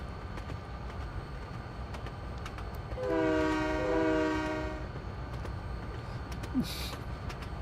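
A train in a snowy railway video game sounds a chord horn for about two seconds midway, set against a steady low rumble of running on the branch line, with faint clicks around it.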